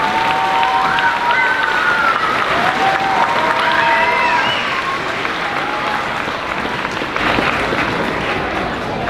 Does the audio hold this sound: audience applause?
yes